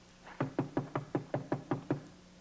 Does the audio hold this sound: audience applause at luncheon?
no